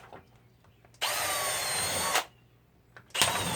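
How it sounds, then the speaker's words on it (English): A power drill bores holes in a 5-gallon plastic bucket for hydroponic gardening. There are two close, loud bursts, one of about a second and one shorter, with quiet gaps between them. "I'm just going to drill"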